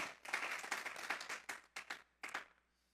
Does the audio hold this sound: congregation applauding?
yes